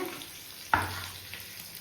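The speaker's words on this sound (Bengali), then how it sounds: "ফোড়ন দিয়ে একটা পেঁয়াজ দিয়ে দিয়েছিলাম, পেঁয়াজটা মোটামুটি ভাজা হয়ে গেছে" Onion frying in oil with tempering spices in a pan, a low steady sizzle with one sharp scrape of stirring partway through.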